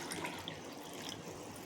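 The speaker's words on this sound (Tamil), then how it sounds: "நீராகாரம் பழைய சாதத்தை கரைச்சிக்கிட்டு இருக்கேன். கரைச்சி இந்த கிளாஸில் ஊற்றி" Fermented rice water (neeraagaram) being stirred and poured into a glass, a soft continuous liquid trickle and slosh, faint and close.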